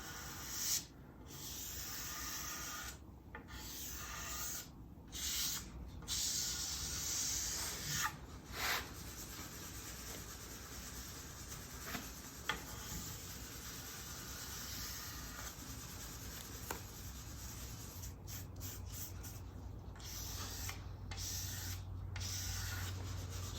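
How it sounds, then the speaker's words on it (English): A blade scrapes excess Tru-Oil finish off a wooden gun stock, a quiet, continuous rasping hiss broken by a few short pauses, with no voices. "See how that scrapes right back off there, the excess does?"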